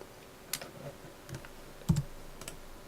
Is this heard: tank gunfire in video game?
no